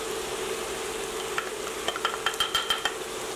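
Vegetables coated in flour are stirred in a pot over a steady sizzle, with a run of soft scraping and clinking strokes in the latter half, fairly quiet and close.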